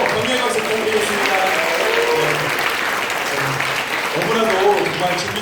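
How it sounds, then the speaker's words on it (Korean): Congregation applause at a church children's worship service with invited parents, loud sustained clapping from a crowd with voices mixed in throughout. "격려의 박수 부탁드리겠습니다"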